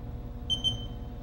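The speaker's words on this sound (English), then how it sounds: "Hear it beeping." A CNC machine in hand jog mode gives two short, clear electronic beeps in quick succession over a steady low machine hum.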